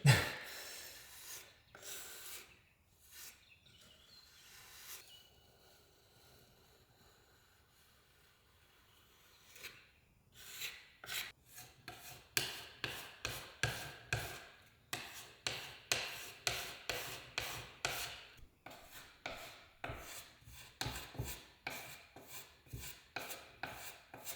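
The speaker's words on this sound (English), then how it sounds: "I'm just going to put some filler in there" Wood filler being worked into holes in a Victorian wooden floor: a quiet start, then a run of repeated scraping, rubbing strokes at a steady rhythm, close and fairly loud, with no talk.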